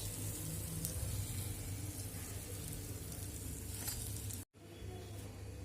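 Appam frying in hot oil at moderate heat, a dense, steady sizzle that stays close and loud throughout, with a brief cut near the end before the crackle resumes.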